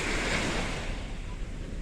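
Surf and wind at a seashore, a steady broadband wash of breaking waves with wind buffeting the microphone, continuous and fairly close throughout.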